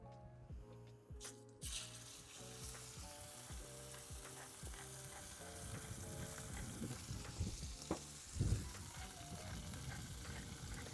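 A seasoned steak sears in a hot, smoking pan on budget camping cookware, giving a steady crackling sizzle with occasional pops and stirring scrapes, moderately close, with no talk.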